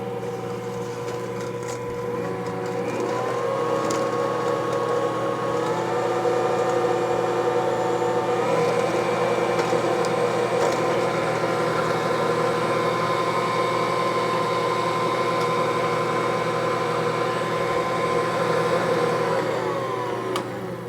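An electric mixer runs steadily on bread dough ingredients for a challah, a continuous loud motor whir with a slight shift in pitch partway through and no speech.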